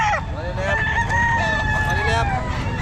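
A Boston rooster crows loudly and close at the Calumpit pet market, one drawn-out call over a dense, busy backdrop of other fowl and market noise.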